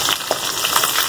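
Chana dal and garlic fry in a pan for a village-style stuffed eggplant curry, giving a brief, close, steady sizzle with a faint scrape or two and no talk.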